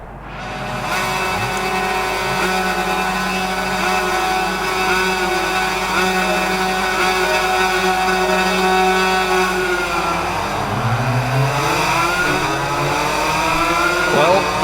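2-stroke Suzuki RM250 motocross bikes in the racing game Ride 5 scream away from the start at Mugello, a loud sustained buzzing engine drone that rises in pitch, with a voice talking over it.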